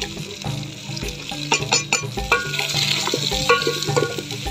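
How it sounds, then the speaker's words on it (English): Onions fry in hot cooking oil in a village kitchen, hissing and sizzling close up with a steady crackle, punctuated by stirring clatter of a utensil against the pot. "I'll also cook this until the onions are wilted."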